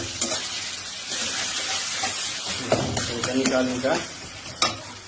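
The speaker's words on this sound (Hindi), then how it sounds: "कनी तेल दो और भूज दी छी माछक मसाला" Fish masala frying in oil makes a continuous close sizzle, broken by stirring scrapes and a few sharper knocks, while a voice speaks briefly.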